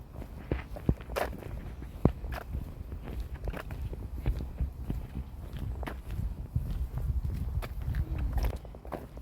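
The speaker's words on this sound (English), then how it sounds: "This is the sound of walking on a hard," Footsteps on a hard, stony forest path, crunching steadily in an irregular walking rhythm, close and moderately loud, with scattered sharp clicks of stones underfoot.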